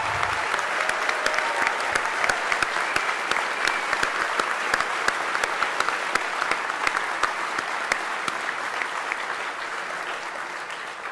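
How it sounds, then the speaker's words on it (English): Steady audience applause at the DEF CON 20 closing ceremonies for the Mystery Challenge teams, many hands clapping continuously with a few sharp individual claps standing out, holding level for about eleven seconds. "everyone give them a round of applause"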